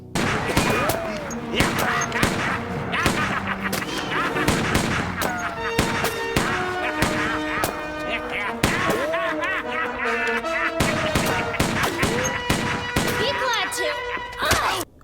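Revolver gunshots in the film Gingerdead Man, a rapid series of sharp bangs and slams repeating through the scene with music and other film sounds underneath.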